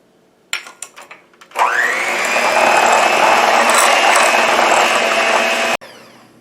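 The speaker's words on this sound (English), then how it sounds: "I'm going to beat the butter." An electric mixer beats butter and sugar for a coffee cake: a few clicks and knocks, then the motor whirs up and runs at a loud, steady drone for about four seconds before cutting off abruptly.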